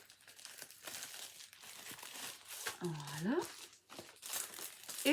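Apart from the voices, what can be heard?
crinkling bubble envelope being handled during unboxing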